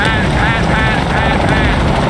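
Helicopter rotor drone from the video game Shadow of the Tomb Raider, a loud, steady whirring wash with faint rhythmic chop filling the whole moment, mixed with wind-like noise.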